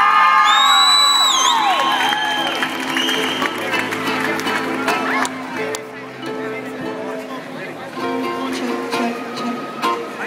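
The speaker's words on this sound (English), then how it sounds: "let's have a big round of applause for a group called Righteous Youth" An audience cheers, whoops and applauds for a performing group, opening with loud shouts and high squeals before the clapping fades to a thinner, scattered crowd noise with voices mixed in.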